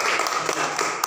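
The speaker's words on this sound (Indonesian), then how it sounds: "tepuk tangan dulu untuk mereka" A classroom of students claps for classmates in a brief, steady burst of applause that holds at moderate loudness for about a second.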